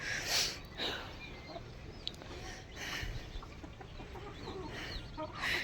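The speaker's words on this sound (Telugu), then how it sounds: "సో ఇక్కడ తెల్ల కోడి కనిపిస్తుందా ఇది గుడ్లు పొదుగుతూ ఉందండి" A white hen brooding on eggs gives soft, scattered clucks, fairly faint against a quiet outdoor background with no talking.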